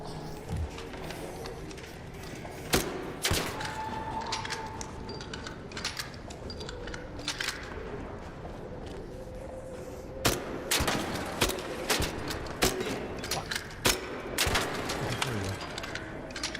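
Gunfire in a video game rings out in scattered sharp bursts and rapid volleys over a busy, noisy background, some shots close and loud, others fainter.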